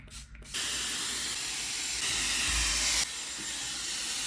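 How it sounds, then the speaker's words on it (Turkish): A steady, close hiss of shine spray serum gives way to the broad, continuous rush of a hair dryer, which runs evenly with one louder stretch midway and no talking. "Bunu sıkıp fön çektiğimde daha da bir parlak oluyor saçlarım."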